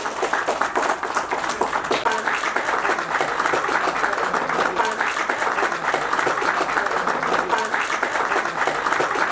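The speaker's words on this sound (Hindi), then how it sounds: "जोरदार तालियां हो जाए संयम के लिए." At a GATE rankers' meet, the crowd gives a ranker loud, sustained applause, a thick wash of many hands clapping evenly for the whole duration, with some voices underneath.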